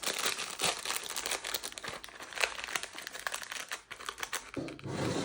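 Oreo cookies being slipped into a paper treat wrapper, with continuous crinkling and rustling of paper up close, dense and fairly loud throughout, with small crunchy handling noises.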